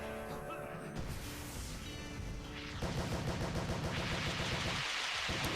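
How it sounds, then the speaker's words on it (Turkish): Dense rapid bursts of gunfire and explosion effects from a bazooka feature in a slot video game fill the mix, loud and continuous with a heavy low rumble. "Patlama geldi. Bazuka."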